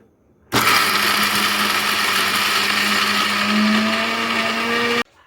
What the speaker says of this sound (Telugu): ఇప్పుడు దీన్ని మిక్సీ చేసుకుంటా.